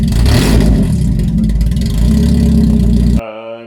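A Mazda MX-5 engine runs with its exhaust removed, a loud, raw, rumbling rev that holds for about three seconds before cutting abruptly to a quieter idle, close up and without talk.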